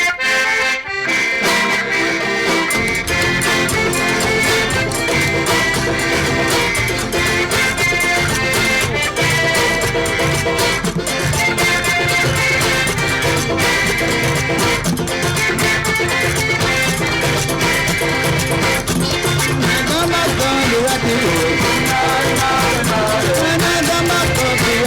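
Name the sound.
Belizean brukdown boom and chime music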